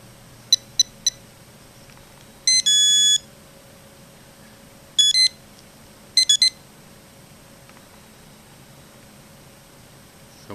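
Metal detector pinpointers, a Deteknix Xpointer, Garrett Propointer and Whites TRX, emit short electronic beeps: quick clusters of three, then longer sustained tones and short bursts over a steady background hiss.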